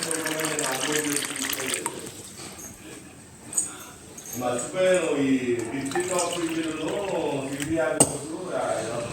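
Water pours from a water purifier tap into a vessel in a steady stream, with people talking nearby.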